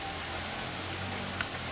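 Steady rain falls on a tarp covering a box outdoors, a dense unbroken hiss of drops with no voices.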